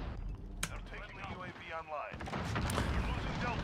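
Heavy booming gunfire from a tank in Modern Warfare pounds through an intense battle, with loud blasts and chaotic gunfight noise building toward the end, while a voice talks over it.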